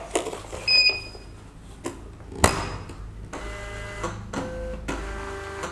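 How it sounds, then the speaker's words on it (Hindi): A receipt printer runs off a bill with several short bursts of mechanical whirring and ticking, close and fairly clear, with pauses between the printed lines and no talk. "हम थोड़ा पेपर अंदर करके बिल प्रिंट करके दिखा देता हूँ।"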